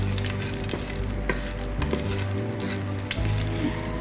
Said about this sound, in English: Put in your garlic and stir fry to brown your garlic.